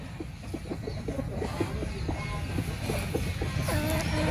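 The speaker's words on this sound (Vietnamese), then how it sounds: "Đây mã số 8 gà khét nè anh em ơi." Khét breed chickens cluck in a steady run of short, repeated calls close by over a constant background hum, with no talk.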